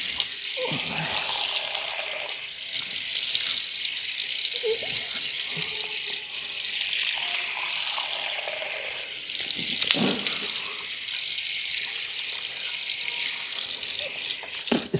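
Tap water splashes steadily while a man washes his face and beard during wudu ablution, a continuous hissing gush with occasional wetter slaps of hands, close by, with his voice speaking over it at times.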